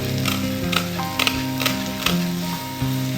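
Chopped spinach sizzling and frying in a pan while being stirred, a steady crackle with soft scraping and tapping knocks from the utensil, no talking.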